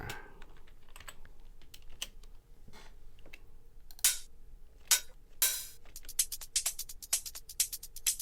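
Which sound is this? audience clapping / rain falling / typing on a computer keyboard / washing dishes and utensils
typing on a computer keyboard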